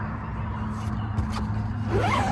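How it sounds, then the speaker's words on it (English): A zipper drawn along the fabric window screen of a VW California Beach camper van, a short rasping zip heard close up over a low steady background hum. "These windows zip out to expose like a fly screen behind it."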